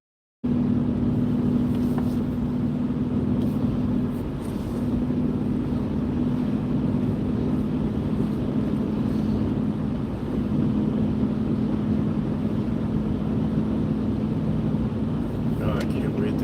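Steady low road rumble and engine drone from inside a moving car, constant and fairly loud from start to finish with a faint hiss of tire and wind noise and no clear breaks.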